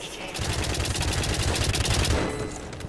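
A turret in the video game White Knuckle fires a rapid, steady burst of bullets, loud and continuous for about two seconds before cutting off.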